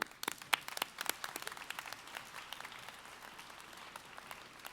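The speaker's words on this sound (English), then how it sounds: "let's give another rousing round of applause to the Philharmonic Society." Scattered applause at a Founder's Day university convocation for the Philharmonic Society, starting with a few distinct, sharp claps that thicken into a thin, quiet patter and slowly taper off.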